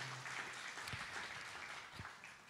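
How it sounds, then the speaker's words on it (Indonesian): A church congregation applauding, a continuous wash of many hands clapping together, steady and moderately distant throughout. "Berikan tepuk tangan ya buat Tuhan Yesus ya."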